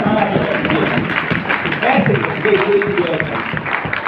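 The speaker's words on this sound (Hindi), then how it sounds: "एक बार हाथ खड़े करके तालियां बजाओ" A live comedy show audience claps at a comedian's urging, a dense and fairly loud wash of many hands with cheering voices mixed in throughout.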